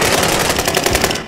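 Rapid automatic gunfire from the video game Warzone, a loud continuous burst of closely spaced shots filling the whole moment with no pause.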